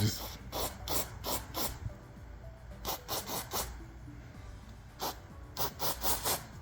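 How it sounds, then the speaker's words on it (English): Mass airflow sensor cleaner sprays from an aerosol can onto a Jeep Compass charge air temp sensor in short repeated hissing bursts, close and fairly quiet. "you're just going to spray it"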